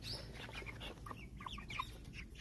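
Black Copper Marans hen making soft, close clucks and short chirpy calls in a backyard poultry setting, with a quiet steady background and no talking.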